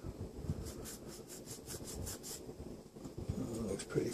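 A snipped end of a plastic scale model part of the Shuttle Tydirium is sanded with quick, rhythmic back-and-forth rubbing strokes, close and soft, over faint background noise, with no talking.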